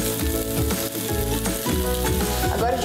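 Strips of bacon fry in a skillet with a loud, dense, continuous sizzle and crackle, close up, over a bed of background music.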